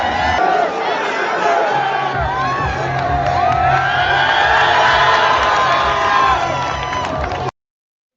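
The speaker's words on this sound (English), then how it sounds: "Listen to the crowd." A large crowd at an HBCU college football game cheers and whoops in a dense, sustained roar that stays loud and steady for about seven seconds before cutting off abruptly.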